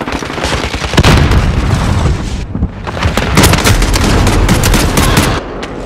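Call of Duty Modern Warfare multiplayer combat with a frag grenade explosion among dense machine gun fire and booms, loud and continuous with a brief dip midway, no talking.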